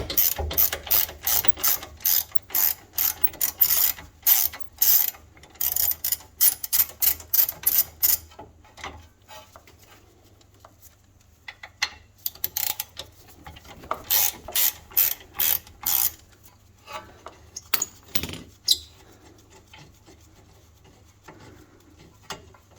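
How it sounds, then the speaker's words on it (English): A large hand ratchet loosens a wheel stud in rapid bursts of loud, close clicking, with pauses between strokes and quieter stretches in the middle. "I had to get a bigger ratchet"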